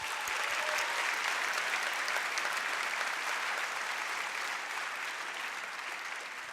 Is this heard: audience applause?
yes